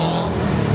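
Powerful 286-horsepower motorcycle engine running close by, a steady loud low drone with a rough, pulsing edge and a slight rise toward the end.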